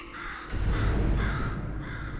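A crow in the video game Portal 2 caws in two loud, harsh calls, close and clear against a steady background hum, with no talking.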